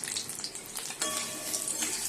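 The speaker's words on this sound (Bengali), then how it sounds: "ডিমটা ভেজে নিচ্ছি" An egg fries in hot oil with a quiet, crackling sizzle that pops a little louder near the middle of the brief moment.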